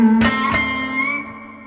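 An electric guitar played through a Fender Princeton Reverb amp, reverb set around 4, with a couple of picked notes ringing out into a wet, dripping spring reverb tail that slowly decays.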